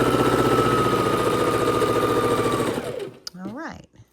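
A sewing machine runs steadily, stitching across quilt pieces for a king size quilt, loud and close for nearly three seconds before stopping, followed by a brief speaking voice.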